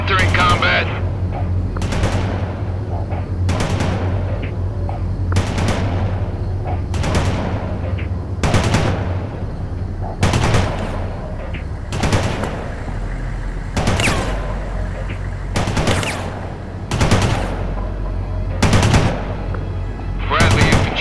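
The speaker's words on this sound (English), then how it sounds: "Laying down suppressing fire." Suppressing fire in the World in Conflict video game, with repeated loud bursts of gunfire at roughly even intervals over a constant low rumble of battle.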